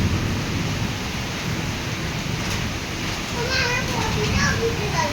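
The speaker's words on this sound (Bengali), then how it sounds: "তো প্রচণ্ড ঝড় বৃষ্টি হচ্ছে" Heavy rain pours steadily with a low thunder rumble during a storm, while children's voices chatter faintly nearby.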